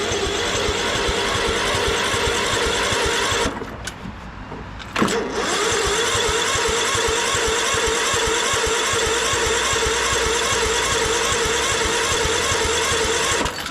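A 2001 Craftsman LT1000 lawn tractor engine on a weak battery cranks loud and close, pauses briefly, then catches and runs steadily at a fast, even idle.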